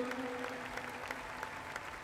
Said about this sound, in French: Merci d'applaudir Pascal Pinault, mesdames, messieurs.